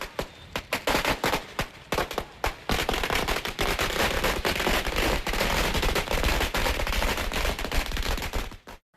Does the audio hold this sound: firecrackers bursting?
yes